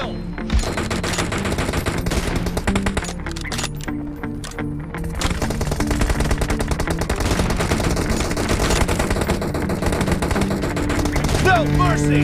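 Rapid gunfire in the mobile video game PUBG Mobile: dense bursts of automatic shots and sharp cracks fill nearly the whole stretch, loud and close, with game voice callouts mixed in.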